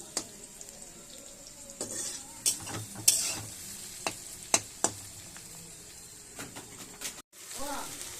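Onions fry in oil until deep red in a biryani pot. A quiet sizzle runs under sharp clinks and clatters of a stirring spoon, ending in a short break and a brief voice.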